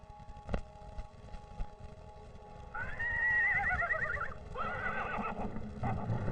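A terrified young horse, trapped with its hooves sinking into hidden asphalt at the tar pits, gives two shrill, quavering neighs of alarm, one long and one shorter, over a low rumbling background.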